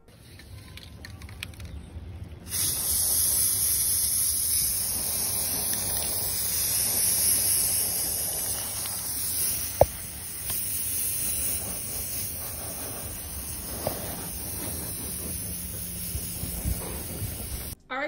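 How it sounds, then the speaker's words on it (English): Gold spray paint hisses steadily from an aerosol can outdoors onto small dollar-store decor pieces, a continuous bright spray running most of the time with a few short pauses and faint background noise. "spray paint it with my gold spray paint"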